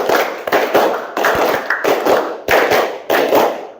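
Hands clap in a classroom counting game, crisp close claps grouped in short rhythmic sets of four, loud and steady with brief gaps between groups.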